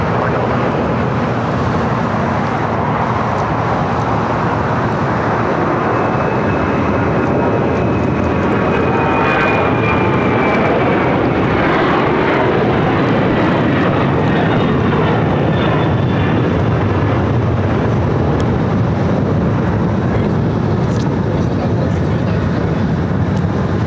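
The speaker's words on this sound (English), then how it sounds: "That was Air China Cargo 8442 taking off to Shenyang on the 747-400 converted freighter" An Air China Cargo Boeing 747-400 converted freighter takes off, loud and close, its engines making a sustained, steady roar that shifts in pitch as it passes. The roar runs without a break through the whole span.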